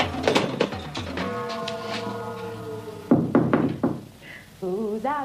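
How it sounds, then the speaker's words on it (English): Knocking at a door in a comedy sketch, a few raps heard near and fairly loud, with a woman singing a sustained melodic line around them. "Who's out knocking"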